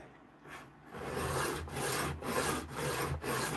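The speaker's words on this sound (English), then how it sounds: "Put my edge on with 300 grit." A knife edge is ground on 300 grit abrasive in a run of rhythmic back-and-forth rasping strokes, steady and close, with no voices.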